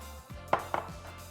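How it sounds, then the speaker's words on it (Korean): Knife chopping chives into roughly 1 cm pieces on a board, two crisp close cuts in quick succession with a soft knock at the start. "부추는 한 1cm 길이로 송송 썰어주세요."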